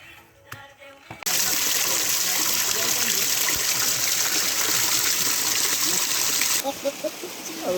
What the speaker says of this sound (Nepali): भर्खर यहाँ खोल्सा भेट्यो एउटा